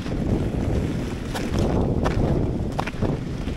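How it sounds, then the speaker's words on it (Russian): Okun XL kick sled set up in Finnish configuration glides over ice, giving a continuous broadband scraping hiss mixed with wind buffeting on the microphone, with a few sharper scrapes. "Но я еду на санках Окунь XL, которые сейчас у меня в конфигурации финских саней"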